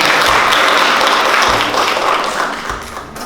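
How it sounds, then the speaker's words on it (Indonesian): Classroom applause for a student at a nursing academy lesson in Medan, a dense steady patter of clapping from a group that holds loud for about three seconds and eases slightly toward the end. "Kita beri aplaus untuk Sentrius."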